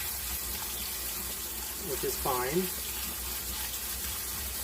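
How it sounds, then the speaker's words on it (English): A kitchen faucet runs and a sprayer is used to rinse saved fruit or vegetable seeds, giving a steady water hiss with a brief gurgling, splashing burst midway while a person speaks. "you can just turn on your faucet and you can spray it with a sprayer"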